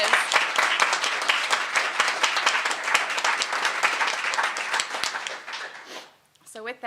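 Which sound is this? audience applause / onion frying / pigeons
audience applause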